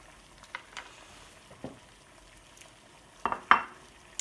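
Chorizo chunks frying in a frying pan give a faint, low sizzle under a few sharp clinks and scrapes of a utensil against the pan, with the loudest knocks near the end.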